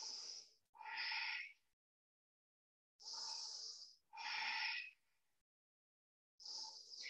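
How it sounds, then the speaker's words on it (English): A person breathes deeply during a yoga session in a quiet room, with a few close, airy breaths in separate bursts and pauses of silence between them. "Take a full big deep breath."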